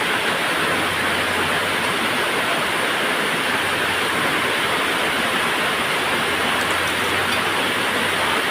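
Steady rain pours down during the rainy season as a dense, continuous hiss with no breaks, loud and close throughout, rushing like water off a roof.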